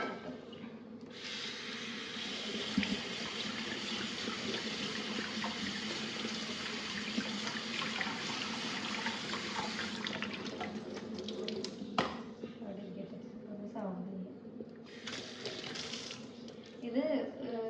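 Water runs steadily from a kitchen tap as something is rinsed, a continuous close splashing hiss that shifts and briefly pauses.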